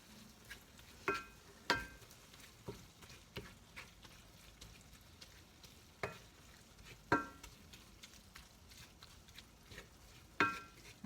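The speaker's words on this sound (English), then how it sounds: "the meat will continue to brown" Ground meat being browned in a pan for bierocks, with a soft frying hiss under intermittent close scrapes and clinks of a spatula stirring, the louder knocks spaced a few seconds apart.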